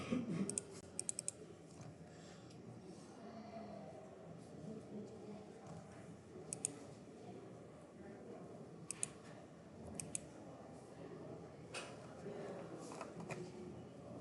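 Computer mouse clicks come in sparse sharp bursts, a few quick double clicks scattered through a steady low background hum, faint and close, with no talking.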